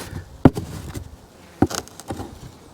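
Honey bees hum inside an opened beehive, a soft steady buzz close by, broken by a few sharp taps or knocks from handling the hive.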